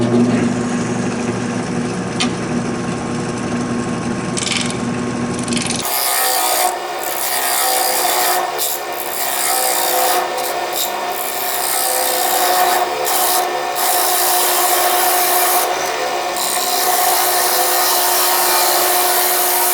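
A wooden winged bowl spinning on a lathe while a tool cuts it, giving a steady scraping, rasping hiss that grows fuller and busier after the first few seconds, continuous and close with no talk.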